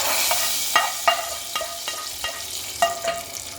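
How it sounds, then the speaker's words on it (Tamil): Mustard seeds, dried red chillies and curry leaves fry in hot oil for a sambar tempering, with a bright, steady crackle and a string of sharp taps from stirring. "கருவேப்பிலை போட்டுக்கலாம். நல்லா பொரியட்டும்."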